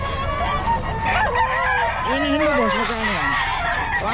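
A Golden Boy rooster crows at a bustling poultry market, its long wavering call loud and close amid constant crowd noise and clucking from other fowl.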